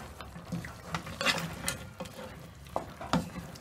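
Beef masala curry with meat is stirred in a pot, giving soft, irregular scraping and wet squelching strokes at close range, fairly quiet, with a faint simmer underneath.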